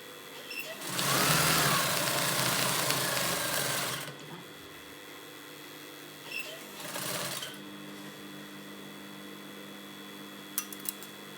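Sewing machine stitching Thai trousers in a loud continuous run of about three seconds, followed by a shorter burst, with quiet handling noise in between.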